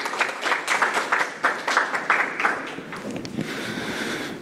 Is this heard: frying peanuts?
no